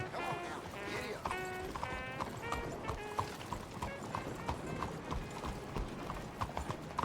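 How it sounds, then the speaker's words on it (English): A horse gallops in Red Dead Redemption 2, its hooves beating a steady rhythmic clip-clop with occasional game sounds layered over it. "Come on now. Giddy up."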